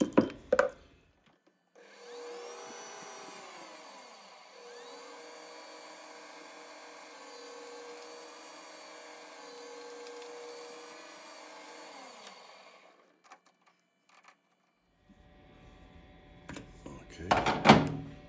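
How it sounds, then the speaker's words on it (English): A metal lathe turns down pulley stock for an oddball six-cycle engine, a steady droning cut with a gently sweeping tone running about ten seconds, bracketed by short clanks and handling knocks at the start and end. "I want to just turn this down so I can get a better grip on it first."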